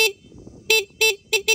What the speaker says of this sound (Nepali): यो हर्न पनि दामी लाग्यो